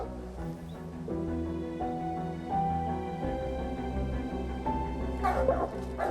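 Hunting dogs bark and whimper close by during a cougar capture, high yips and whines rising over a steady low rumble, with a sharper burst of cries near the end.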